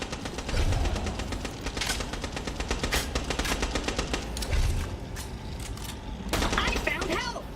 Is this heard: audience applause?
no